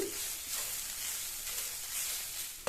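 Bitter gourd fried in oil with salt being stirred, a steady close sizzle with faint scraping strokes, alone without voices.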